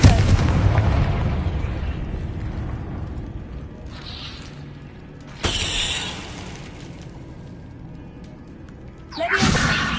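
Confringo fire spell exploding in Hogwarts Legacy: a sudden loud burst followed by a second blast near the end, over a continuous low game rumble.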